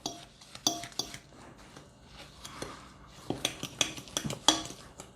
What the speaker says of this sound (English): we have to beat this till it's light and fluffy, so this may take a while